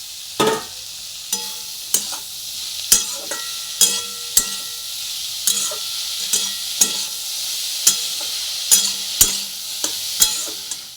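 Mushrooms fry in a pan over onions, sizzling steadily while a spoon knocks and scrapes against the pan at a regular beat, about a dozen strokes, close and without speech.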